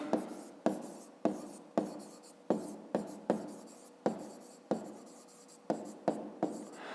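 A pen writes numbers on paper for a fifth-grade math exercise, making a series of quiet scratchy strokes in an uneven rhythm, close by with no talk.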